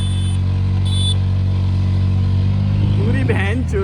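A motorcycle engine revs steadily while in gear, a loud, close, continuous low drone throughout, with a voice briefly speaking over it near the end.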